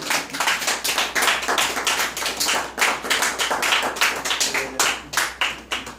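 Audience applause at a champagne brotherhood ceremony of the Confrérie du Sabre d'Or in Reims, steady dense clapping from a nearby crowd that carries on without a break, with no voices rising above it.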